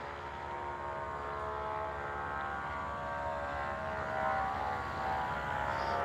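A small airplane's engine runs up before takeoff at an airfield, a steady, droning roar with a faint whine that holds at a constant level throughout, heard from some distance.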